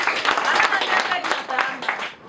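A church congregation at an anniversary celebration claps in praise of Jesus, a lively burst of applause mixed with voices that fades slightly toward the end.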